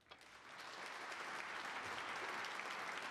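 Applause drifting over from a neighbouring table in a professional snooker match, a continuous mid-level clapping that swells slightly after the start and holds steady, with no talk.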